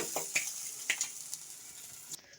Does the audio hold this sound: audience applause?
no